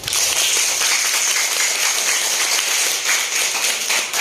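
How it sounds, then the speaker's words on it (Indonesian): A classroom of schoolchildren applauds their teacher in one steady, dense wash of clapping that holds loud and even throughout, with no voices over it. "tepuk tangan semuanya"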